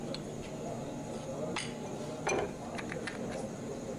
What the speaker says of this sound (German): den festgerosteten Teller hier einfach mit ein paar Hieben, mit ein paar Schlägen vom Schraubendreher einfach runterschlagen